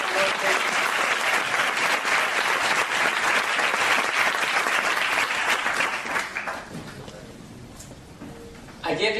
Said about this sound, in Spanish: un gran aplauso para Miguel y Pilar